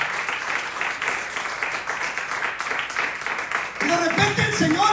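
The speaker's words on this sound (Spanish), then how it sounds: "hay que darle una ofrenda fuerte de palmas a nuestro Señor Jesucristo" Applause breaks out from a church congregation during a Good Friday crucifixion service, a dense mass of clapping mixed with voices, swelling louder near the end.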